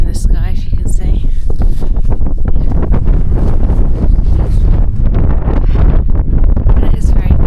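Strong winter wind on a mountain ridge near Helvellyn in the Lake District buffets the microphone with loud, constant rumbling gusts. A person speaks under the noise throughout.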